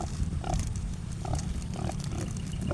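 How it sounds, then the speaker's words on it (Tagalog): A newly bought sow grunts in short, repeated low bursts at close range, spaced about every second, over a steady background hum with no talk. "Kailangan mapurga natin itong nabili natin na inahing baboy"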